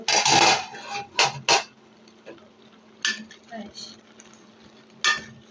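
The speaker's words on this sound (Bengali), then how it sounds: "এখন আমি এই ঢাকনা দিয়ে ঢেকে দিব।" Metal clatter of a lid set onto a pot of boiling water spinach, with several clinks and knocks in short bursts and quieter pauses between them, and a voice talking faintly underneath.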